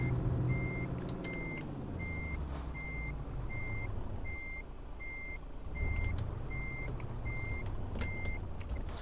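A truck in Euro Truck Simulator 2 reverses with a steady, evenly spaced beep, around a dozen tones over a low engine rumble that swells slightly toward the end.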